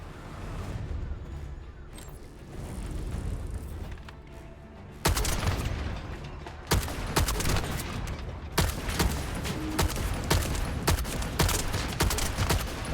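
Scout rifle gunfire in a video game, quiet at first, then a loud burst and a run of rapid, closely spaced shots and impacts that continue to the end.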